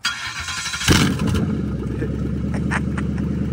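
A Lincoln Town Car with very high mileage cranks and catches, its engine settling into a loud, steady rumbling idle as it is put into gear, close by with no talk.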